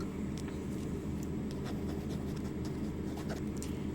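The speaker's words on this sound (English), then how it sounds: "Let me write that down" A pen scratches across paper at close range, writing in short strokes during a calm cognitive-test session, quiet and steady with no speech.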